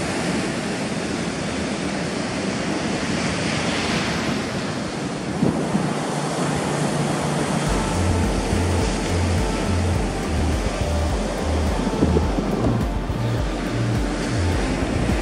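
Surf breaking continuously on a Sea of Japan beach on a cold winter morning with dumping waves, a broad steady roar with swelling crashes, plus wind buffeting the microphone and low rumble in the second half.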